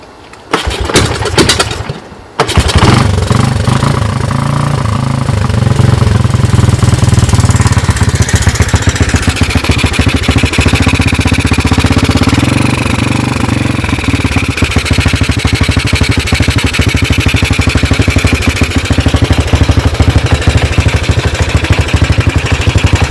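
A 1984 Honda TRX200 ATV engine pull-started, then settling into a loud, steady, close idle with a rapid chugging pulse that runs without pause.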